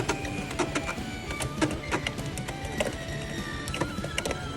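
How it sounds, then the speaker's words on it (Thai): Spinning Beyblade tops, a Dran Buster among them, clash in an Inazuma-mode battle, giving a steady high mechanical whir broken by sharp clicks and knocks as they strike each other, loud and close throughout. "และนี่คือเสียงของบิดแอล"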